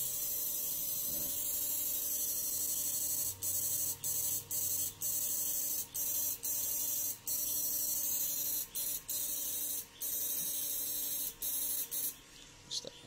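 A homemade eight-MOSFET fish shocker inverter built with 80NF70 power MOSFETs hums with a steady electrical buzz, broken by repeated short dropouts as it is pulsed on and off.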